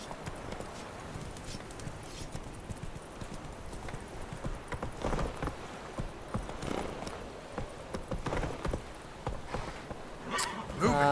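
Roach the horse gallops in The Witcher 3 with quick, rhythmic hoof clip-clops that swell and fade across the ground, and a brief neigh-like burst near the end; no voices.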